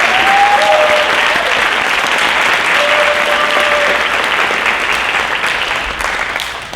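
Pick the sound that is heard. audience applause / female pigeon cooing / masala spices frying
audience applause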